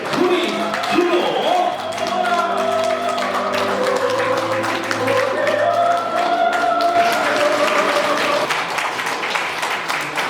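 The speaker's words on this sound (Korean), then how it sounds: "우리 신랑 신부에게 다시 한번 큰 박수로 축하해 주시면 감사하겠습니다" Wedding guests clap for the bride and groom at a ceremony in a Daegu garden hall, a steady wash of applause lasting throughout with music and voices running underneath.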